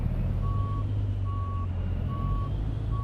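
School bus reversing alarm in American Truck Simulator, backing into a bus barn: four evenly spaced steady beeps over a loud, constant low diesel engine rumble, no talk.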